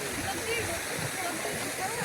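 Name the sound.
waterfall at Godawari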